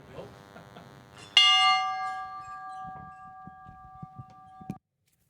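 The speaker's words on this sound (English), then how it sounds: "I'll ring this bell." A single bright bell is struck to open a chess match held at the Nasdaq, ringing loud and close with a long sustained tone that slowly fades while quiet voices murmur around it.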